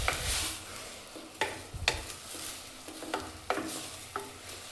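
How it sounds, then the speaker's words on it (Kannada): Rice being stirred and fried in a spiced tempering for palak rice, giving a soft continuous sizzle broken by several sharp utensil scrapes and clinks at irregular intervals, close and alone. "ಇದೇನು ಒಗ್ಗರಣೆ ಇದೆ ಅಲ್ವ, ಇದ್ರಲ್ಲಿ ಚೆನ್ನಾಗಿ ಅಕ್ಕಿನ ಫ್ರೈ ಮಾಡ್ಕೋಬೇಕು"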